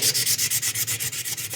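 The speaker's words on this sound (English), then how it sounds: "Get your sanding paper and start sanding." Rhythmic back-and-forth sanding of a popsicle stick with 800 grit sandpaper, about a dozen even strokes in quick succession, close and steady with no voices.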